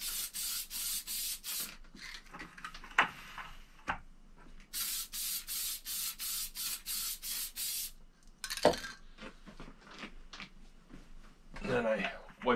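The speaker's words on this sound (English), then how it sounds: "Gotta give it a good shake and then spray on the lube." Repeated bursts of aerosol spray hiss as case lube is sprayed for reloading 6.5 Creedmoor cartridges, in short pulses, separated by brief pauses and some handling clatter.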